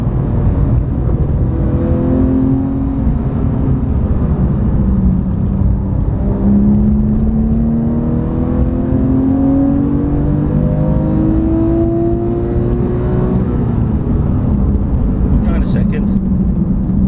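A car accelerating through corners on a track, a loud continuous engine drone with rising and falling pitch sweeps as revs climb, heard from inside the car alongside steady cabin roar and talking.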